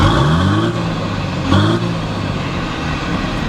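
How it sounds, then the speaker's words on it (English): A third-generation RAM 3500 pickup truck engine idles with a deep rumble, revving briefly twice and settling back, close by with no talking. "I love the way that this truck sounds."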